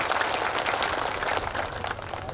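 Crowd at a political rally in Gonda's Gaura constituency clapping to welcome party workers, a dense, steady wash of many hands that holds throughout without pause.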